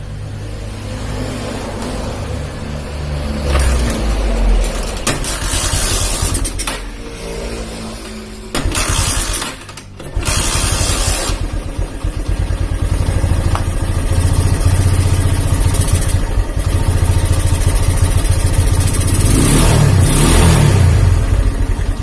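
A standard Honda Megapro motorcycle with a carburettor and a worn cam chain starts up close by, then idles and revs repeatedly in loud surges, with a brief drop midway before the engine picks up again and runs steadily.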